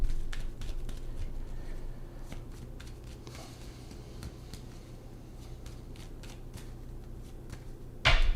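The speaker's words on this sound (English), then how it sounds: "Pisces, let's see, last shuffle." A deck of tarot cards is shuffled by hand, giving soft repeated riffling taps and slides close by at a quiet level, ending in a brief louder knock.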